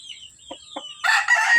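An Old Boston gamecock gives a short crow, loud and close, after a few soft low clucks, the call ending the brief clip.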